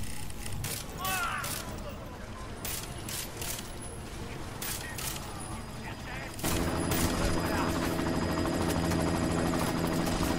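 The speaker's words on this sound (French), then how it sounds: "Vous devez arrêter cet hélico." A helicopter in the Deus Ex Mankind Divided video game, its rotor thudding steadily amid bursts of gunfire and explosions, growing louder and denser after several seconds.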